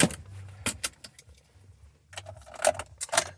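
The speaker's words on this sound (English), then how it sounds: "And I'll go ahead and put my seatbelt on now." Seatbelt buckling inside a 2019 Chevy Tahoe, with a few close metallic clicks and jangles as the belt is pulled across and latched, quiet and near, with no talking.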